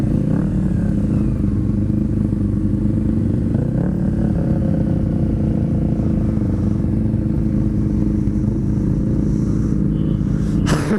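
An old Suzuki motorcycle engine runs nearby with a loud, constant rumbling idle and a few light blips of revving, heard alone without talk.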